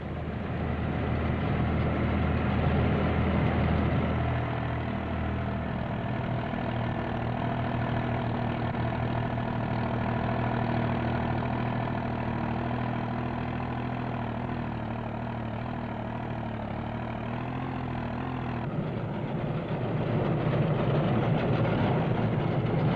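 A 1974 Standen sugar beet harvester runs behind a tractor, a steady mid-pitched engine drone with mechanical hum that holds constant, shifting slightly partway through, loud and continuous with no talking.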